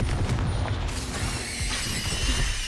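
Spell blasts from Confringo and Expulso go off in Hogwarts Legacy, with a dense, continuous roar of booming impacts and crackling debris running through the whole stretch, loud and close.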